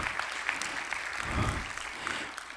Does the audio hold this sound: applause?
yes